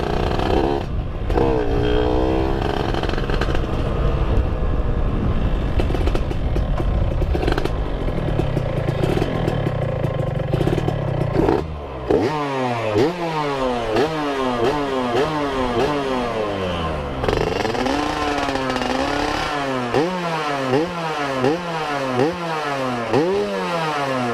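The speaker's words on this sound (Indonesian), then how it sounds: "suara ini suara piston agak kena dikit, tapi ini nggak masalah" Motorcycle engine idling up close with slight piston knock and clutch noise, a loud rough clattering putter that dips briefly and then settles into a steady rhythmic rev cycle.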